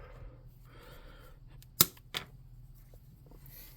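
Two sharp snips of cutters biting through a plastic raptor toy body, the first loud and crisp, the second softer a moment later, over a quiet room with faint background murmur.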